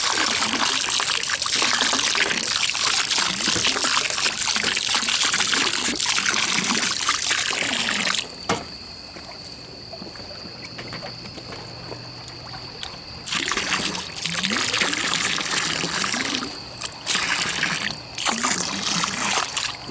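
Liquid chlorine bleach pours steadily from a gallon bottle into a green swimming pool, a continuous gurgling splash that briefly thins and then resumes at full flow.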